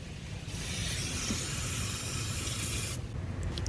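Brake cleaner sprayed from an aerosol can to clean off a drift car: a steady, close, loud hiss starts after half a second, runs for about two and a half seconds, then cuts off, with no talking.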